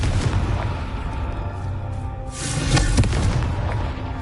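A Confringo fire-blast spell cast in Hogwarts Legacy lands as a loud, booming burst with a rumbling tail, followed by a second heavy impact a moment later.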